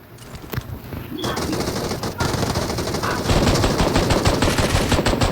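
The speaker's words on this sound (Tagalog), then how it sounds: "Ang lakas ng baril niya." Dense automatic gunfire from a PUBG Mobile match in a quarry area, sustained rapid bursts running loud and continuous throughout with a brief gap early on, with faint talk beneath.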